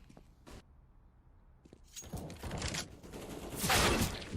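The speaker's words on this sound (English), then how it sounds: "Shots rattling off Shane to find the headshot." Rifle gunfire in a Counter-Strike CS:GO match, starting with faint isolated cracks and building into a dense rattling burst of shots that swells louder toward the end, with no voices.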